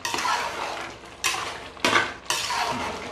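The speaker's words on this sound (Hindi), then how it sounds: "मैं इसको मिलाता हूँ अच्छे तरीके से, इसको मिक्स करके मिला के" A metal spoon stirs garam masala into lauki chana dal in a cooking pot, scraping and clanking against the metal sides in three or four sharp bursts, each followed by a softer sliding scrape, with no voices.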